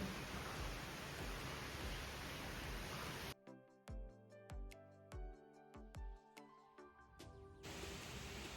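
Rain falling outside, a dense steady hiss that cuts out for a few seconds midway, when scattered clinks and taps are heard, and then returns.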